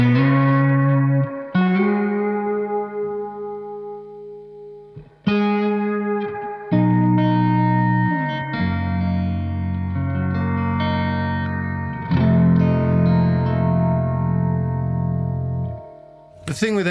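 Electric guitar through a Walrus Audio R1 stereo reverb, notes and chords ringing through a lush, springy reverb with a shimmering tail, sustained phrases separated by brief pauses.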